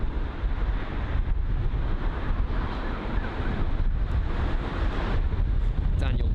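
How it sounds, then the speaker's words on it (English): Strong gusty wind blows at London Heathrow airport, a dense continuous roar buffeting the microphone for the whole stretch. "very, very windy at the moment"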